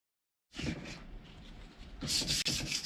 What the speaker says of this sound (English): Just a quick sanding to knock the rough edges where the paint has dribbled a little bit